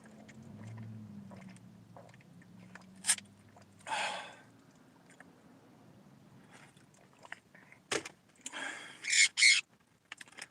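Sun conure parrot giving a few sharp squawks and calls near the microphone, with scattered short bursts separated by quiet gaps.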